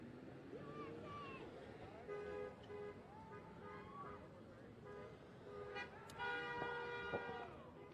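Car horns honking at a street protest outside the Grant Sawyer Building in Las Vegas, several tooting blasts of different pitches overlapping and repeating at a distance under background traffic and chatter.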